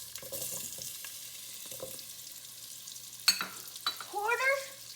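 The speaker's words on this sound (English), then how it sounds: "Now let's fry the potatoes." Cubed potatoes fry in hot oil in a pan, a soft sizzling crackle with faint stirring scrapes, quiet and close, followed near the end by a brief squeaky clatter.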